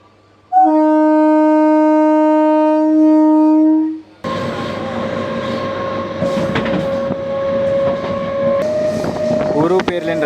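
A MEMU passenger train pulls into Gandhipuram halt railway station on the Vijayawada–Bhadrachalam line, opening with a long steady horn blast, then loud continuous rumbling and screeching wheels, close and sustained.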